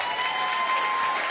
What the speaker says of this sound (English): I need more claps than that?